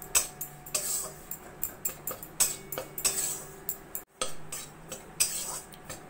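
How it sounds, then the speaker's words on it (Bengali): Gram flour frying in ghee in a pan while a spoon scrapes and taps against the metal in a steady irregular rhythm of sharp clinks, close and clear, with no talking. "এইভাবে নাড়া দিতে থাকবো যতক্ষণ না বেশ ঘিটা ছেড়ে দিচ্ছে"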